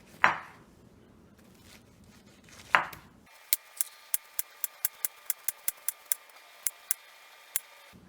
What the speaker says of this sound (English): we're going to cut that into slices, the horizontal slices